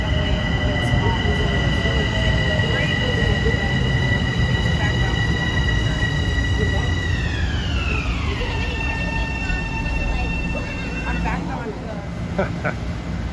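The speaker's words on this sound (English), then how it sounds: "here comes 547 for North White Plains" A Metro-North commuter train, number 547 bound for North White Plains, pulls into the station with a sustained rumble and high whining tones that slide downward as it slows, ending in faint squeals.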